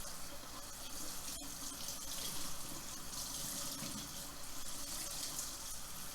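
Tap water runs steadily into a sink to rinse freshly dyed fabric, a continuous broadband splash lasting the whole stretch at moderate level with no talk over it.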